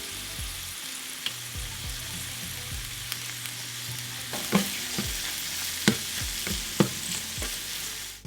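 Corn charring in olive oil in a pan gives a continuous sizzle, with repeated scraping and knocking of a utensil stirring it, several sharper clatters near the end.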